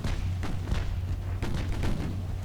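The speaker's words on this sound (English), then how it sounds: "Orion's about to take some torpedoes." Torpedoes strike the warship Orion in a naval battle game, a dense run of heavy, rumbling booms and thuds that keep coming with no pause across the short stretch.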